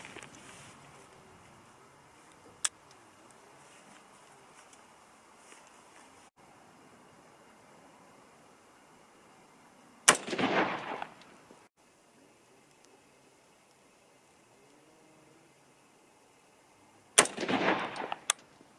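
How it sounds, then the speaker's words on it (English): Hunting rifle being sighted in, with three sharp, loud shots spaced several seconds apart, each followed by a brief rolling echo over a quiet outdoor background. "the first cold bore shot, goes where I want it to hit. Okay, here we go. First 3 shots."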